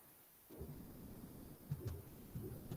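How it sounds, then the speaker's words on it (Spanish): Rain falling steadily outside with low rumbles of thunder, a broad continuous wash that swells in several heavier rolls, fairly faint and with no voices. "perdonen que está lloviendo un poquito aquí"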